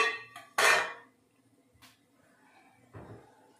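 A metal idli stand is set into a pressure cooker of boiling water for fasting sago idli, with a loud clang of steel, a softer knock a moment later and a final clatter of pots.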